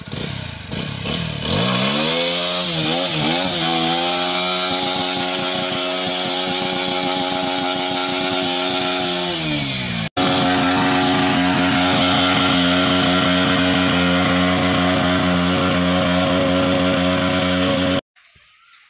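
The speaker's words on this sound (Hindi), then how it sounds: "ये आ रहे हैं अपनी Apache RTR 164V BS6 bike को लेकर ऑफ रोडिंग टेस्ट करने के लिए" An Apache RTR 160 4V BS6 motorcycle revs hard during an off-road test in mud, its engine rising into a loud, sustained buzzing whine that climbs in pitch, then cuts sharply before another steady high-revving stretch that ends abruptly.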